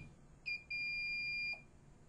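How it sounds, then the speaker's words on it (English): Low-battery warning from a RIDGID Mini SeeSnake inspection camera monitor, a faint high electronic beep, one short tone and then a longer steady tone about a second long, heard alone in quiet surroundings. "accompanied by rapid beeping."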